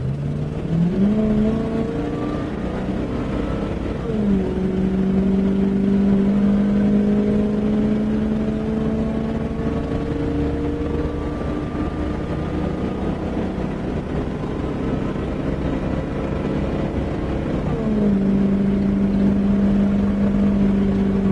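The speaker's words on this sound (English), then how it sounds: "we're on the entrance ramp to the highway, and I'm just going to give it full throttle, and we'll show you what it's got" A 1994 Fleetwood Coronado class A motor home with an exhaust leak accelerates at full throttle up a highway entrance ramp, its engine drone rising steadily in pitch and dropping at each gear shift, loud and continuous inside the cabin.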